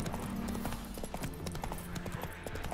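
Horse hooves clip-clop at a steady trot in The Witcher 3: Wild Hunt, Hearts of Stone expansion, close and continuous, with occasional faint game music and ambience underneath.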